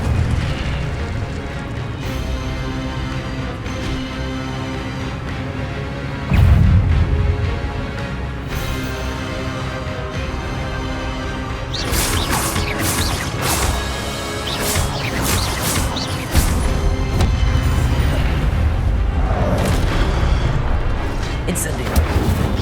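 Incendio fire spell blasts in the video game Hogwarts Legacy, repeated booming eruptions and crackling bursts over a sustained musical score, several sharp hits bunching toward the end, loud and close, with a voice sounding at times.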